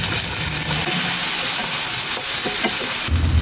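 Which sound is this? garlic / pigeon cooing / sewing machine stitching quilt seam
garlic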